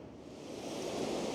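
Irish Sea waves wash at high tide beside a promenade, a steady broadband surf roar that builds slightly across a brief moment, fairly faint and with no voices.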